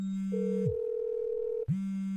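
A father's mobile phone gives off a steady electronic tone that shifts pitch partway through, cuts off briefly and then resumes, clear and close with no talking.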